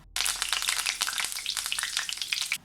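Dried red chilies and curry leaves fry in hot mustard oil for a coconut pickle, giving a loud, steady crackling sizzle with sharp spitting pops throughout, close up and with no voices.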